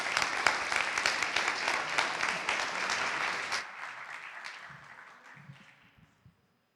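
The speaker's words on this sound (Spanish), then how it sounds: "Un aplauso para la doctora." An audience at an oncology congress applauds a doctor, a full round of clapping that holds for about three and a half seconds, then fades to a few scattered claps and near silence.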